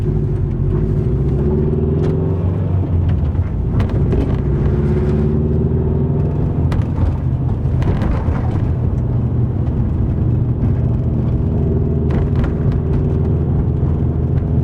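A 2012 Subaru WRX with a Gentleman's Exhaust pulls hard through the first two gears, a steady loud engine drone rising in pitch and dropping at each shift, heard from inside the car.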